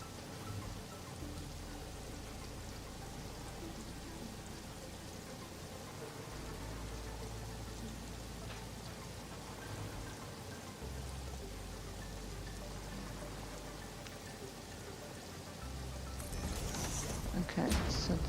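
Steady rain falls in Satisfactory, a soft continuous hiss of drops with a faint low rumble underneath, growing slightly louder and brighter near the end, with no talk.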